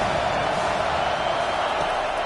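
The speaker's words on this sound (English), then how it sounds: "This crowd bringing the energy and noise early." A stadium crowd roars in a college football video game, a continuous broad wash of crowd noise at steady loudness with no distinct cheers standing out.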